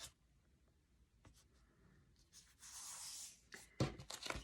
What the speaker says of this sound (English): You usually end up pulling off the tape the wrong way.